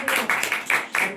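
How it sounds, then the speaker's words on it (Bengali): A live audience claps in rhythmic bursts of applause at a certificate presentation after a theatre workshop in Naihati, the clapping swelling and dipping roughly every fraction of a second. "হাততালি দাও, হাততালি দাও"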